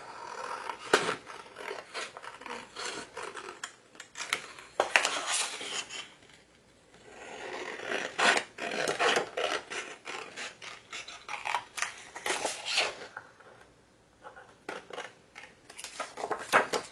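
Scissors cut patterned scrapbooking paper up close in bursts of crisp snipping and rustling, with short quiet pauses between runs of cuts.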